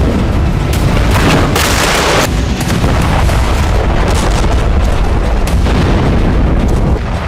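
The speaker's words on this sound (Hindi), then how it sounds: "कीव में इस्कंदर और उत्तर कोरिया की मिसाइलों से ताबड़तोड़ विस्फोट शुरू हो गया" Iskander and North Korean missile explosions in Kyiv come through as loud, distorted, continuous rumbling booms with several sharper bursts, dense and heavy throughout.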